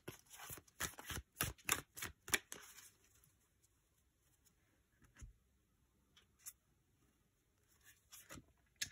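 Oracle cards being shuffled: a quick run of crisp riffling snaps for a couple of seconds, then scattered soft taps and slides as cards are drawn, close and quiet with no talking.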